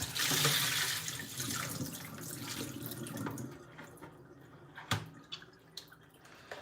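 Water runs steadily from a kitchen tap into a sink, a loud splashing stream that tapers off, followed by a few scattered drips and clinks near the end; no talk.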